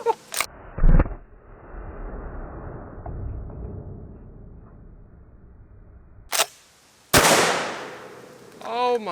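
A shotgun fires a slug into shaving cream, first heard as a couple of sharp handling clicks, then a quiet stretch before two loud close blasts near the end, with a brief voice right after.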